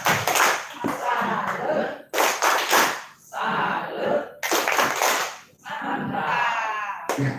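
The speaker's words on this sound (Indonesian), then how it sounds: "saya akan stimulus dengan" A school staff audience does a rhythmic salute clap, with loud bursts of claps and shouts in unison in a regular pattern, broken by short pauses.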